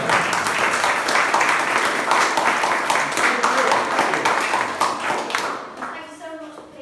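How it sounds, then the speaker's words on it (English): An audience at a Showtown performance breaks into a full round of applause that stays strong for several seconds, then thins and fades out, with a voice speaking as the clapping dies away. "a big round of applause for Sam"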